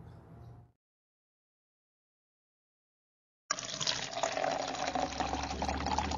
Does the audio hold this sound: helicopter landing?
no